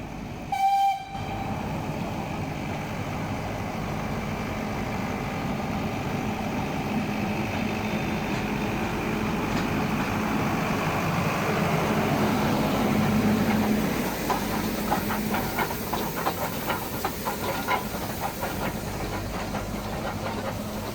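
The vintage Ooty steam engine train starts with a short whistle blast, then rumbles steadily as the carriages roll, with rhythmic clanking and chuffing building toward the end.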